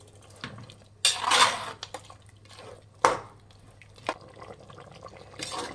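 A spoon clanks and scrapes against a pan while garam masala is stirred into Chettinad chicken biryani masala, with a few louder metallic knocks over a quiet, moist background and no voices.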